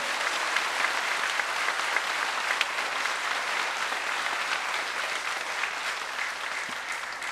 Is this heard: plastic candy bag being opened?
no